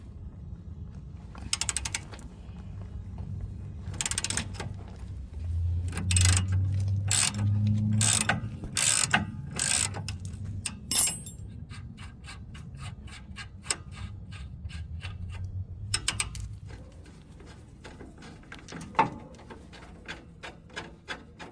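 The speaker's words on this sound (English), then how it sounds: "we're going to use an 18mm with an 18mm wrench here" An 18mm wrench turning a rear shock bolt on a 2013 Jeep Wrangler JK: a series of sharp metallic ratcheting clicks and creaks in bursts, close up, with a low mechanical rumble and no talk.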